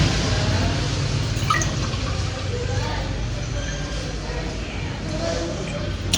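Water is poured into mashed bel fruit pulp while making bel sharbat, a steady broadband splashing wash that runs the whole time with a faint trickle.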